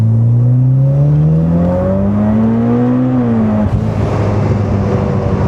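A newly tuned Mitsubishi Evo X pulls hard through the gears on a first drive, its engine note rising steadily, then dropping sharply at a shift before climbing again, loud and close with road roar underneath.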